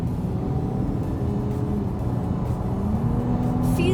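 Porsche Cayenne engine pulling hard while overtaking two motorcyclists on an East Coast road, a steady loud drone with rising engine tone over road noise, no talk.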